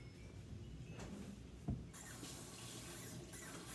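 Water runs from a kitchen tap while being measured out for cooking rice, a quiet, steady trickle with a brief knock midway and a slight rise in flow afterward.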